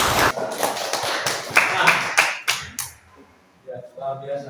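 An audience at a geography presentation gives a few sharp, separate bursts of clapping, then a voice speaks.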